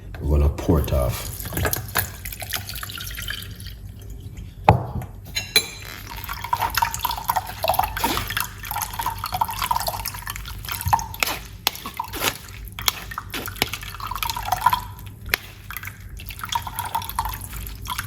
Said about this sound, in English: we're gonna pour it off